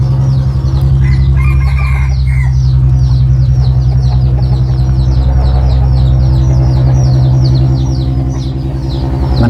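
A hen raising her chicks clucks steadily and close, with repeated throaty calls over a constant low engine-like hum, and no talking.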